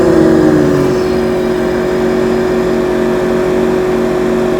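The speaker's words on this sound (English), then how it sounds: "let's see what happens when we engage boost mode" A Yamaha EF2200is inverter generator runs in boost mode with a close, constant mechanical drone; its pitch shifts and settles early, then holds steady.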